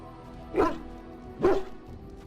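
A dog at camp in Dragon Age: Origins gives two short, gruff barks about a second apart, close and moderately loud over a quiet ambient hum, with no talking.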